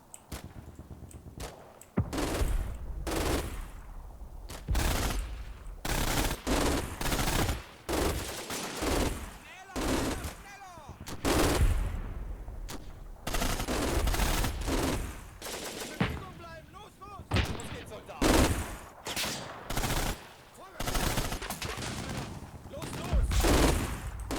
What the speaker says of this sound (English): I'm sort of hoping they focus fire on these heavy machine guns, actually.